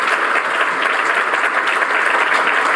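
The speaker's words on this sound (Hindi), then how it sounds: "एक बार जोरदार तालियां ब्रिकवर्ल्ड के लिए" Loud, sustained applause from an audience at a motivational seminar, a dense, even wash of clapping that holds steady throughout with no talk over it.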